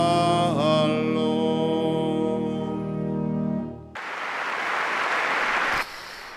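Applause for Pope Francis at a general audience, a broad wash of clapping from a large crowd that rises abruptly after sustained sung tones, steady and fairly loud, then dips near the end.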